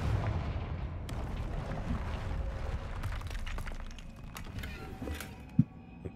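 A Confringo fire blast spell in Hogwarts Legacy goes off as a booming, crackling burst that fades into scattered snaps and debris, ending with one sharp thump.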